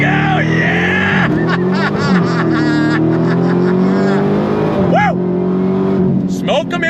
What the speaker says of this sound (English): We're gonna launch at around 1900 RPM, left foot on the brake, right foot on throttle.